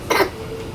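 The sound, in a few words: child coughing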